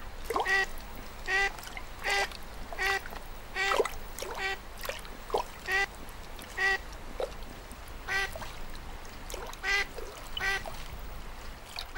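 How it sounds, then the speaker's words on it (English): Wild ducks on a High Tatras mountain lake quack repeatedly in irregular bursts, some calls close and clear, others softer, over a quiet outdoor background with no talking. "Wild ducks even breed here and bring up their offspring."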